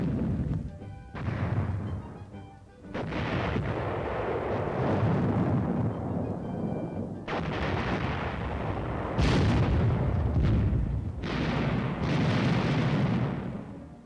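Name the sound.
artillery fire during training at Camp Fuji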